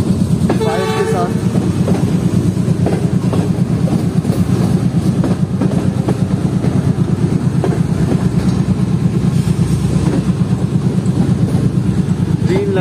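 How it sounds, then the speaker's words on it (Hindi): A Hazara Express passenger train on a Pakistani railway, including Green Line business class coaches, rolls past close by with a loud, steady rumble and rhythmic clickety-clack of wagons, plus a brief horn-like tone near the start. "ये हजारा एक्सप्रेस निकल रही है बिल्कुल हमारे सामने से"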